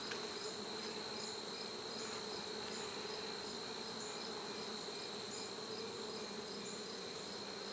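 Buckfast honey bees hum around a breeder hive in a faint, constant buzzing drone, a steady high insect whine running unbroken with no voices.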